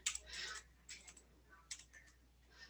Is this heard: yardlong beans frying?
no